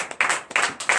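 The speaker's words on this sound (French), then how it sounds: "Donne l'acclamation à Jésus." Congregation clapping and cheering in acclamation for Jesus during a night deliverance church service, three quick bursts of applause, moderately loud and short.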